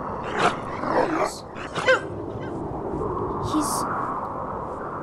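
Husky wolf dogs in an arctic survival sim game give a few short, strained barks and yelps in the first two seconds, fairly close, then fade into a steady low wind-like ambience.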